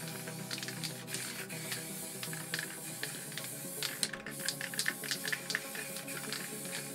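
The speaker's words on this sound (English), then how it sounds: "And I'll spray again. And as you can see, it's still spitting a bit." A Montana Gold spray paint can hisses steadily and spits, with crackly sputters and small bursts breaking through the spray. It is close and fairly quiet, with no talk.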